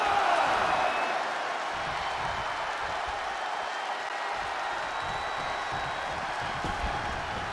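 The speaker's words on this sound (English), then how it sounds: "The sound of this crowd is deafening" A packed wrestling arena crowd roars continuously at a Starrcade 1995 match, a loud, dense wall of cheering and noise that holds steady throughout.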